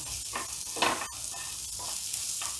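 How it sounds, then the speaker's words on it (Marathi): Onion, coriander and red chilli powder sizzling in Amul butter in a pan for masala pav, a continuous close hiss broken by short stirring scrapes and one sharp utensil tap. "थोडासा कांदा, कोथिंबीर आणि थोडंसं लाल तिखट मी यामध्ये घालत आहे"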